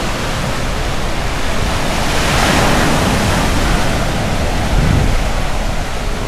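Ocean surf near San Narciso and Pundaquit, with waves breaking and water rushing out toward the sea, forms a loud, continuous broadband wash, swelling slightly as a wave crashes near the end, with no talking.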